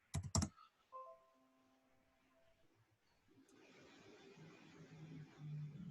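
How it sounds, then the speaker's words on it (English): Someone types on a computer keyboard in a short, close flurry of clicking keystrokes at the start, followed by a quiet stretch and low background hum. "I'm just going to type in Google Forms."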